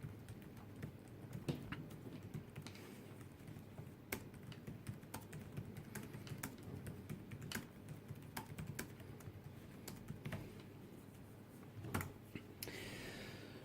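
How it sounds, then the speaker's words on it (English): Typing on the keyboard of a Dell Venue Pro 11 7140 tablet produces quiet, irregular key clicks in a steady flurry, close but faint against a soft background hiss. "Keys are very nice to type on, actually."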